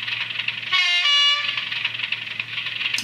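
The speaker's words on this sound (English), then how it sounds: "We've got a low air horn." A low two-tone air horn from the digital sound decoder of a Class 37 model locomotive sounds once, lasting under a second. It plays over a steady idling engine hum.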